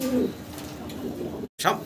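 Fancy pigeons coo softly in short, low, throaty bursts close by, with a brief cut partway through and some background murmur.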